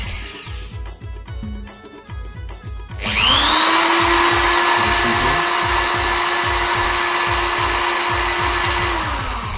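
YOCA YC1310G electric drill, brand new, starts up after a few seconds of quiet clicking and handling, then runs loud and steady for the rest of the clip as its whine climbs in pitch with the speed.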